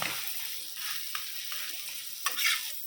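Butter sizzles and fries in a hot pan with no oil, a steady crackling hiss punctuated by sharp spatters and a few stirring scrapes, close and continuous.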